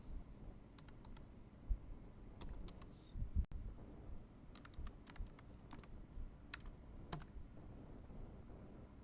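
Fingers tap a computer keyboard in uneven bursts of close, crisp keystrokes while entering customer details in Finacle 10 banking software, with quiet pauses between runs.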